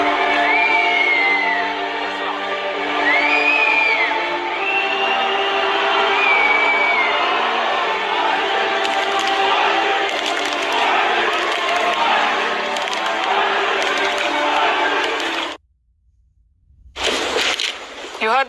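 Loud, massed chanting from a football crowd at an Israel vs Paraguay match, with voices rising and falling together over a dense roar before a brief dropout near the end.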